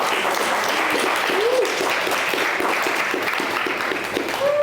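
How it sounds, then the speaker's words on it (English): Audience applause at the close of a panel at a social media event, a steady even wash of many hands clapping throughout, with a few faint voices and whistles mixed in. "Let's give another round of applause."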